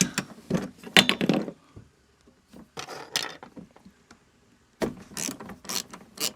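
A ratchet fitted with a 14mm socket clicks in quick bursts while undoing the wiper motor nuts on a Nissan Micra K11, with close, dry ratcheting separated by short pauses.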